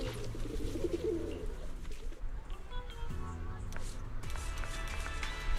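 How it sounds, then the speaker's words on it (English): Pigeons coo in a video game, heard during a Zenless Zone Zero or Honkai: Star Rail session: soft, low, repeated cooing over a steady bed of background game audio, close and moderately loud, with no talking. "They even included actual audio of pigeons."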